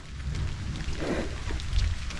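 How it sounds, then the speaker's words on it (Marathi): Steady rain falls outdoors during a heavy downpour, a dense continuous hiss with a low rumbling undertone and no voices. "काय पाऊस आला तो"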